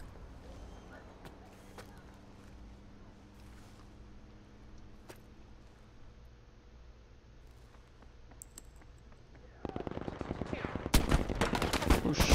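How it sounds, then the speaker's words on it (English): Shooter video game gunfire, faint and distant at first over a low engine-like drone, then turning into loud, rapid automatic bursts near the end. "Taking fire."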